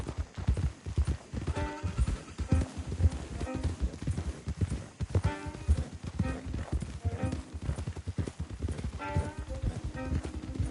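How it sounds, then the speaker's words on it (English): Horse hooves clop steadily and rhythmically throughout, close and fairly loud, with a faint whinny now and then, in the video game Red Dead Redemption 2. "Don't want the horses clopping around outside the window."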